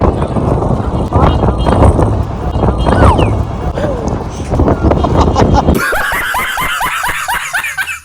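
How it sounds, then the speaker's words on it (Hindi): Heavy wind buffets the microphone with a constant roar while people talk and laugh in New York, and the gusts grow sharper toward the end. "अब इतनी तेज़ हवा चल रही है पूछो मत"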